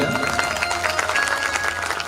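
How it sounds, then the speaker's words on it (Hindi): Steady, dense clapping from a crowd at a Shrimad Bhagwat katha gathering, welcoming the priest of the Sheetla Mata temple, continuous and fairly loud throughout with no clear talk over it. "जोरदार तालियां"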